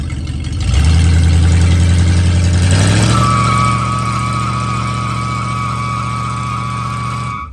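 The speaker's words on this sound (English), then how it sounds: "give it gas, and just let out on the brake a little until you feel the tire start spinning." A 1986 Ford F150 Bullnose truck with a 5.0 302 small-block V8 revs hard during a burnout, a loud close roar that climbs, then holds a steady high drone with a rising tire whine before cutting off.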